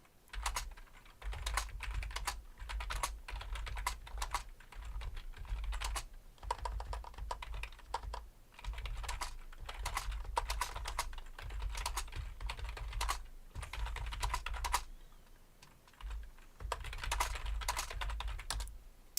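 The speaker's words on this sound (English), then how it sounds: "So if you'll excuse my typing, this keyboard is a bit loud." Loud clacking on a noisy, non-silent computer keyboard comes in bursts of rapid keystrokes separated by brief pauses, close and clear over about twenty seconds with no speech.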